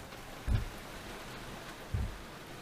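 Heavy rain pours down steadily on a sheltered sailboat on Lake Huron. Two dull, close thumps break the broad, even hiss of the downpour.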